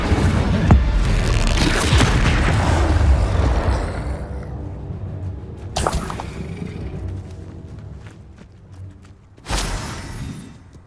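Spell blasts in Hogwarts Legacy combat: heavy booming explosions with crackling debris, a long loud burst at the start followed by two sharper separate impacts, almost no voices.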